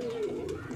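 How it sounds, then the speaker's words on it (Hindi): An Indian high-flyer pigeon, a bajra-type bird from a Tonk flock, gives a brief low coo, close and soft, lasting under a second. "ये देखें आप कबूतर की गूंज"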